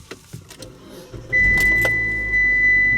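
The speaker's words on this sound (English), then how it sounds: "So let's go and start the car." A car is cranked and its engine catches after a few soft clicks and rustles, then settles into a steady close idle hum with a faint whine from the dashboard.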